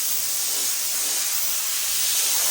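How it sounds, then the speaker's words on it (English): A Chief Steamer 155 240V steam cleaner blows a steady, loud, continuous hiss of steam without a break, close to the microphone. "The steam is really good for blowing seams and cracks and crevices out."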